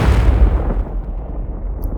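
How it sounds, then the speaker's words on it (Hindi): A heavy explosion sound effect accompanies a comic-book scene of a building being blown apart, a loud close boom that rumbles and decays over about two seconds. "हैरी के आंखों के सामने ही एक जोरदार धमाके में मिस्टर ऑसबॉर्न की पूरी बिल्डिंग राख में बदल जाती है।"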